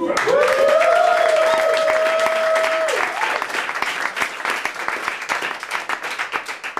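A burst of stand-up comedy audience applause and clapping fills the room, with a loud cheer or whoop at the start, then the clapping thins out.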